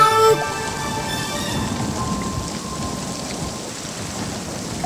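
Rain and thunder serve as a sound effect in a children's nursery song, a steady wash of falling rain with a low rumble of thunder as the last notes of music fade at the start.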